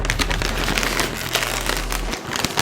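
Dense, steady crinkling and crackling of a crisp packet being handled and torn open, close and fairly loud, with a low hum underneath that cuts out near the end.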